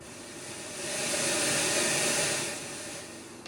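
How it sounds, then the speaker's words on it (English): A Polivoks synthesizer's noise generator giving a steady wind-like hiss that swells louder in the middle and then eases back, with no voice. "Mixer also has traditional noise knob"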